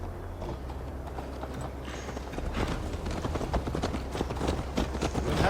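Horse hooves clip-clop steadily on the ground in Assassin's Creed Valhalla as Eivor rides toward Tamworth. Fast, even hoofbeats close by, growing slightly louder partway through, over a low rumbling game backdrop.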